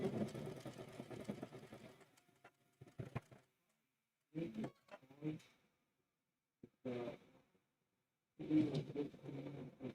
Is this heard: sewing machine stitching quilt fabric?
yes